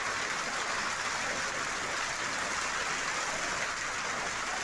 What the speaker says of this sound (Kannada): ಹಲವು ಜಿಲ್ಲೆಗಳಲ್ಲಿ ಇದೇ ರೀತಿ ಮಳೆ ಸುರಿದಿದೆ